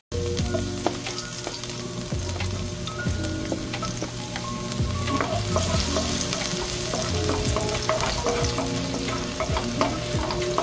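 Garlic frying in a hot kawali (wok) for chicken adobo sizzles steadily and loudly throughout, with a dense crackle and scattered pops, and no voices.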